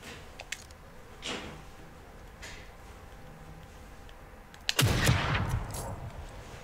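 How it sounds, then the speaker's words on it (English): Sniper rifle gunfire in The Evil Within 2 video game: a few sharp cracks over a quiet game backdrop, with one much louder close shot followed by a lingering rumbling echo. "Sniper rifle."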